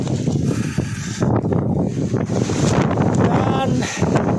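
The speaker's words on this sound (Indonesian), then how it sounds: "Anginnya sangat kencang sekali." Strong wind buffets the microphone on a mountain trail on Mount Sumbing, Indonesia, about twenty minutes past post 4, giving loud, continuous roaring gusts and rumble.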